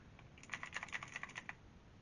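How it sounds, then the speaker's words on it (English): Rapid typing on a Logitech G715 mechanical keyboard, a run of crisp, close clicky keystrokes in an uneven rhythm that starts after a brief pause and then stops, with no voices. "First is Logitech's G715 mechanical keyboard, which I honestly enjoy the sound of it."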